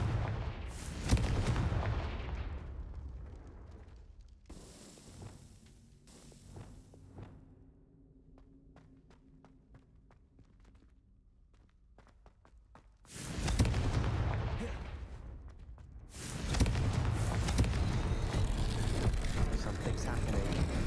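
A Confringo fire spell in the Hogwarts Legacy video game goes off as loud booming blasts with rumbling tails, separated by a quieter stretch with faint game sounds.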